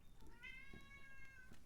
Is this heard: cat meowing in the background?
yes